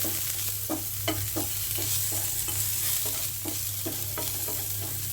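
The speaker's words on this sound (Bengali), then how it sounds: "এখন আমি নামিয়ে বাকি তেলে আগে থেকেই কেটে রাখা পেঁয়াজ কুচি দিয়ে দিলাম। হালকা করে একটু ভাজবো পেঁয়াজগুলো।" Chopped onions frying in leftover oil in a pan for a pumpkin mash, a steady close sizzle broken by regular scraping stirs about every half second, with a low hum underneath throughout.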